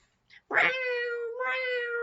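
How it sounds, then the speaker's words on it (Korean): A cat meows loudly and close up: a short chirp, then a long drawn-out meow that rises again into a second stretched cry, with no other sounds around it. "고양이 야옹 야옹"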